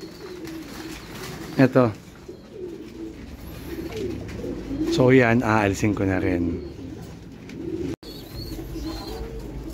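Pigeons, one of them lethargic, coo in short bursts, one near the start and a louder, longer run in the middle, with a person speaking briefly nearby.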